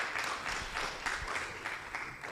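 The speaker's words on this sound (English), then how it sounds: "let's give a round of applause for our panelists for today" A conference audience applauds the panelists at an annual general meeting, a brief, moderately faint patter of clapping from a room of people that holds steady for a couple of seconds.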